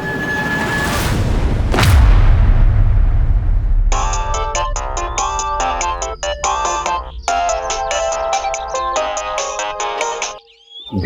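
A mobile phone rings with a bright repeating melodic tone that starts partway through, after a loud whooshing boom, and plays at close range, loud and alone, then cuts off near the end.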